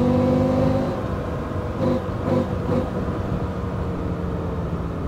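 A motorcycle exhaust, picked up by a mic at the bottom of a backpack, gives a steady engine hum that drops slightly after a second, with a few brief swells of louder revving in the middle.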